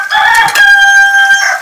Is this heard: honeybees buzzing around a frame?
no